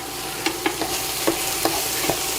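Lamb and vegetables sauteing in a pan, a close steady sizzle punctuated by several sharp spatula clicks against the pan, no talking.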